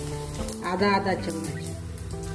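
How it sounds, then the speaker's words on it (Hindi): Mustard seeds and cumin crackle and sizzle in hot oil in a cooking pot, a soft fizzing held under a person's brief spoken instruction. "तेल गरम हो गया है, इसमें डालेंगे राई और जीरा"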